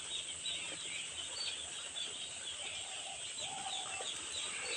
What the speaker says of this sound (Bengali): কয়টি মুরগির বাচ্চা আছে।